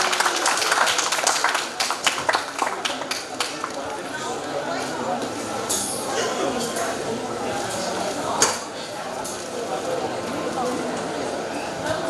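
An audience at a fashion show claps in a scattered burst that fades after a few seconds, then gives way to quieter room noise with talking.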